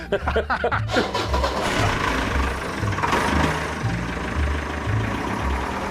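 A 2.2-litre diesel car engine cranks a few times, catches, and settles into a rough, clattering idle close by.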